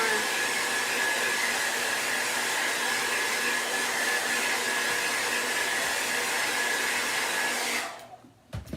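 Hair dryer drying burlap fabric being made into chinoiserie cloth, a steady loud blowing whoosh lasting about eight seconds before it clicks off, leaving near silence.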